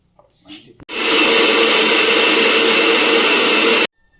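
An electric mixer grinder runs loud and steady for about three seconds as it blends spice paste with a little water, starting abruptly after a few soft handling noises and cutting off sharply.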